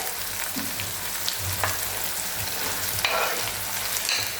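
Finely chopped tomato sizzling in hot oil in a frying pan for Khandeshi vangyache bharit, a steady crackling hiss with occasional scraping stirs and soft clicks, close and continuous with no talking.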